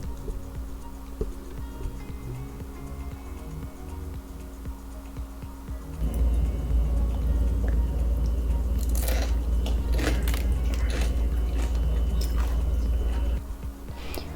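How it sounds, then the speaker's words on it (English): Crisp crunching bites into oven-baked parmesan zucchini fries, a loud cluster of sharp crackles over a low steady background hum, with no talking. "Our crispy zucchini slices are ready, and listen to the crunch"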